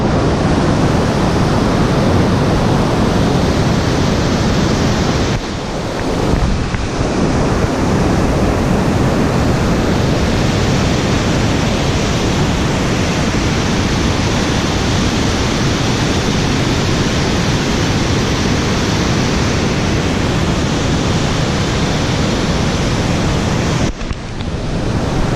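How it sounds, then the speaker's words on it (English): Rushing river water far below Machu Picchu, a loud, steady broadband roar that fills the whole stretch, with only brief dips in intensity; no voices. "that is the water that you can hear all the way from the top of Machu Picchu"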